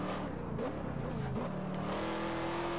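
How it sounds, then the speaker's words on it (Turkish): Engine note of a car in the racing game Forza Horizon 2, which has four exhaust outlets. It drops steadily in pitch as the car slows, loud and close, with a faint tyre squeal and no talk. "Yavaşlarken bile güzel ya arabanın sesi."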